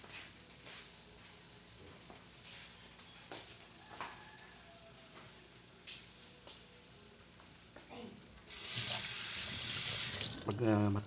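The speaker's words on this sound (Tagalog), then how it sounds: "Lagyan natin ng kaunting tubig." Tap water runs into a jug of homemade mulberry juice with ice, a steady bright splash building near the end after quieter clinks and kitchen handling sounds.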